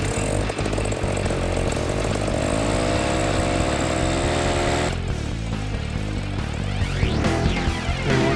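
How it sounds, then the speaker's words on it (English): Paramotor engine starting and running at a paraflying weekend gathering, a loud buzzing two-stroke drone that climbs in pitch and shifts as the throttle changes, steady and close throughout. "How many of us could start the monster engine like this?"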